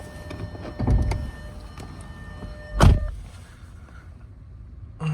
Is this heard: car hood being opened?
yes